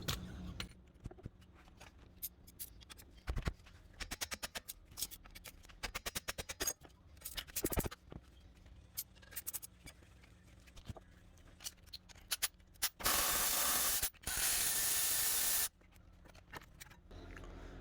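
Rapid bursts of ratchet clicking loosen the 17 mm caliper bracket bolts on the rear brakes of an Acura RL. The bursts are close and fairly loud, broken by short pauses, with a longer steady hissing burst near the end.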